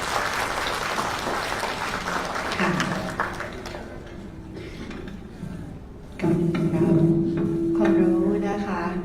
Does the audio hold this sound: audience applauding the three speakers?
yes